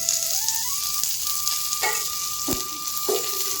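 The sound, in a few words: gram flour frying in oil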